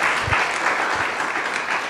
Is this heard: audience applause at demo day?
yes